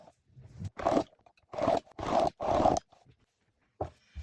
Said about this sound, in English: So I'm going to cut this down now.